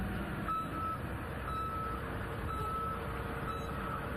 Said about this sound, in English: be sure that all truck backup alarms work properly.